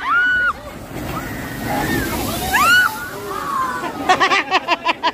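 A boat on an amusement park water ride at Busch Gardens plunges and splashes into water, a rushing wash with shouting riders, then rhythmic sloshing as the wave settles.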